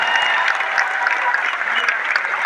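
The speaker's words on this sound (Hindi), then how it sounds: "जोरदार तालियों सर के लिए" Loud, dense applause from a seminar audience welcoming a guest speaker, a continuous close wash of clapping hands throughout.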